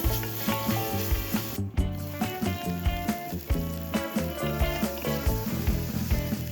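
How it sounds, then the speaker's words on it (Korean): Halved organic Brussels sprouts sauté in olive oil with minced garlic, sizzling softly beneath a steady rhythmic pulse of background music. "올리브 오일에 다진 마늘과 함께 넣어서 볶다가"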